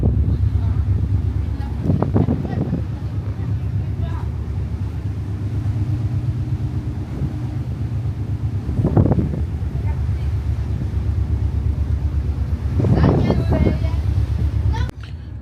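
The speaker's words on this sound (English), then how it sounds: "It's too windy out there" Strong wind buffets the microphone on the outside deck of a ferry, a steady roaring rumble with engine drone beneath and a few louder gusts.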